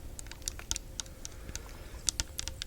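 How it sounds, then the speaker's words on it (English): Steady clicking of keys on a computer keyboard, irregular bursts of typing heard alone at moderate level over a faint background hum. "I also might make some typing noises"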